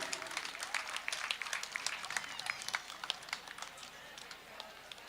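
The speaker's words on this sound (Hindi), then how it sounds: "जोरदार तालियों से उनका अभिनंदन" Audience applause at an award ceremony during the Ganga Aarti in Rishikesh, Uttarakhand: dense, steady clapping from a crowd, heard faintly at a distance and sustained throughout without pause.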